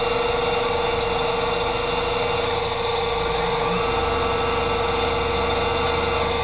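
TruTech TT8500 CNC centerless profile grinder with its axes moving, giving a steady, loud mechanical hum with a sustained whine running throughout, close by and without talk.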